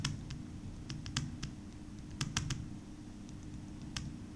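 Faint, irregular clicks of computer keyboard keys as a short line of text is typed, scattered taps with brief pauses and no voice.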